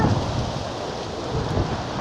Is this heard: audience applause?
no